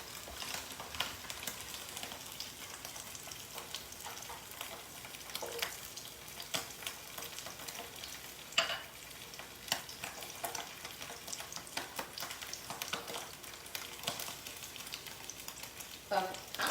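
Oil sizzles steadily in a pan as a vegetarian fried-egg imitation browns at the edges, a continuous crackling hiss with small pops and scattered sharper spatters throughout, no talking.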